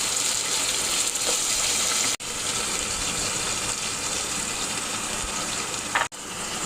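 Potato and onion sizzling in hot oil with mustard seeds, a loud, steady hiss and crackle with two brief breaks.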